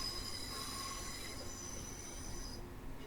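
A Class 378 electric train pulls away from West Croydon in a train simulator game, with high squealing wheel tones and a steady rumbling run over the rails, heard up close with no talk.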